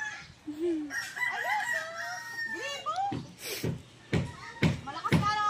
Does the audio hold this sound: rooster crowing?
yes